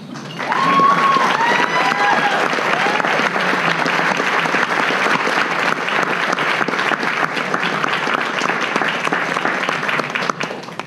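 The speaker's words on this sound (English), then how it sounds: "Would everyone please join me in a round of applause to thank Dr. Miriam Reeves." Sustained audience applause at a medical resident graduation ceremony, a full, even wash of many hands clapping from start to finish, with faint crowd voices underneath.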